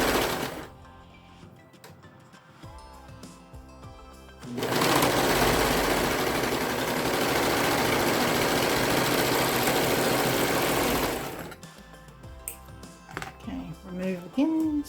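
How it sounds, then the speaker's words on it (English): A serger stitches around the side seam of a fabric welding cap, its loud, steady whirring motor running continuously for several seconds, with quieter handling and rustling noises before and after. "place it under the serger, and we're going to serge it all the way around to close that side"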